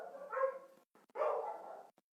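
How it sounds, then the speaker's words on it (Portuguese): Dogs bark indoors in a couple of short, loud bursts, one bark followed by a longer muffled barking run, close by with brief silences in between. "olha o latido dos bichos."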